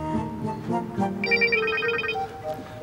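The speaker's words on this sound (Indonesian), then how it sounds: "Mau terima telepon dulu." A phone rings with a melodic electronic ringtone, a bright repeating tone pattern rising out of a dull, muffled indoor background and sounding a little under two seconds.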